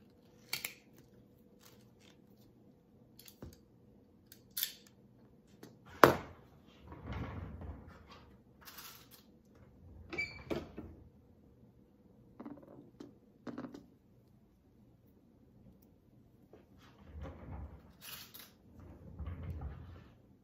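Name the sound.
hole punch punching leather and setting a rivet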